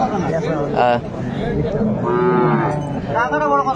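Dairy cows and calves of improved breeds moo loudly several times at the Ambari cattle market in Dinajpur, with long drawn-out calls rising over background crowd chatter.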